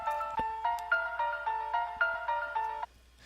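A theme from the Undertale sound test plays as a slow, eerie looping melody of sustained bell-like tones, repeating in even steps before cutting off abruptly; clear and alone.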